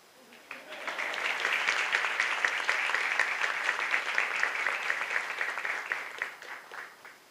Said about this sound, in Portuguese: Salve de palmas aos homenageados.